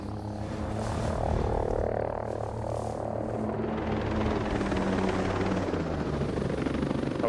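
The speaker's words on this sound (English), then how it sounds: "Helicopter coming." A helicopter's steady rotor thump and engine drone in the video game Ghost Recon Breakpoint hold throughout, loud and continuous, with no talking over it.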